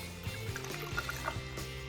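A Blackberry Bramble cocktail is poured over ice into a highball glass, a short steady trickle of liquid with faint clinks of ice, close and alone.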